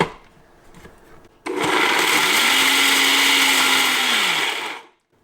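Electric spice grinder whirring through whole garam masala spices in one loud, close burst of about three seconds, the motor pitch shifting as the spices break down, then cutting off abruptly.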